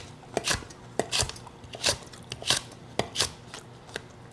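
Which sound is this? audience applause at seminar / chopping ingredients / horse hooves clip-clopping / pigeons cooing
chopping ingredients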